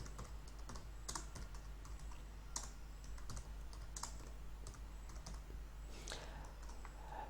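Steady quick typing on a computer keyboard while building a web page, a continuous patter of light clicks over a constant low hum, close and moderately quiet with no talk.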